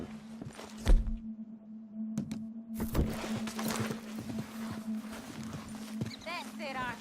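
Horse hooves clip-clop at a walk in the video game Red Dead Redemption 2, steady soft thuds at close range with a brief whinny, under characters talking calmly to the animal.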